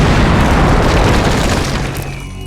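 Asteroid bombardment impact explosion, a loud, deep rumbling boom that surges at once and slowly fades over a couple of seconds.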